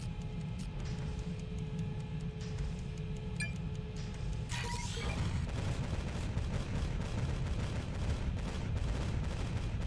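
Spaceship guns fire at long range in a space combat video game, heard as a dense, steady rumble of distant booming shots with scattered sharp clinks over a constant low roar, with a brief bright burst midway and no talking.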